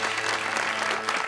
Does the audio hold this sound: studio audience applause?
yes